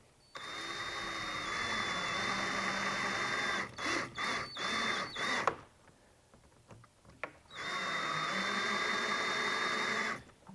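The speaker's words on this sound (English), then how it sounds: "to start installing the screws into the side of the boat" A power drill driving screws through the plastic hull of a kayak while installing accessories, with long steady whirring runs broken by several short bursts and a quiet gap between them.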